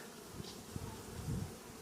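Honey bees swarm around a hive, giving a faint continuous buzzing drone with occasional louder passes of individual bees near the listener, no talking.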